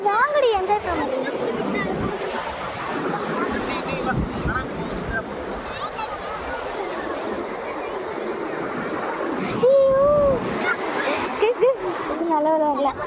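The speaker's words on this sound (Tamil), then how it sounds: "அலைகள் வந்து எவ்வளோ தூரம் வருது பார்க்கலாம்." Ocean waves wash up onto a beach in a steady, continuous surf with some wind noise, while people talk and call out over the water throughout.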